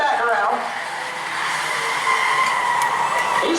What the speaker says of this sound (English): Now he's doing some traditional donuts down there.